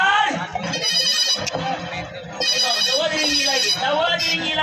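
A telephone rings in bursts, calling a doctor, with voices talking loudly over and between the rings in a busy comic scene.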